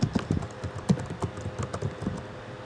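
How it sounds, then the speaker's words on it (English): Keystrokes on a computer keyboard while entering a movie title into a download search field on a Mac, a steady run of close, fairly loud clicks with no talking. "You go to type in the movie"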